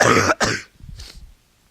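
Two sharp, loud coughs close to the microphone in quick succession, followed by a softer throat-clearing rumble.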